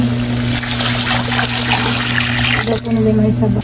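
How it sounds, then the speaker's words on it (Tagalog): Water pours steadily into a pan, a continuous trickling splash up close over a low electrical hum, with a brief pause near the end. "Lalagyan na po natin ng tubig."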